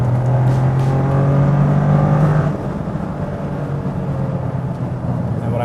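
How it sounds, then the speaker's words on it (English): A 2024 Toyota GR Corolla engine revs during a rev-matched downshift into a lower gear, a loud steady drone for about two and a half seconds before dropping to a lower, rougher hum with no voices. "I'm basically rev matching as I'm downshifting to match the RPMs"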